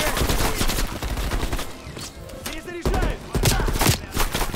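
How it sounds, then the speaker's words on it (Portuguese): Rapid turret gunfire in Call of Duty Black Ops Cold War, with dense repeated bursts that are loud and close and fill nearly the whole stretch, dropping off briefly in the middle. "Acha cobertura, a torreta vai te despedaçar."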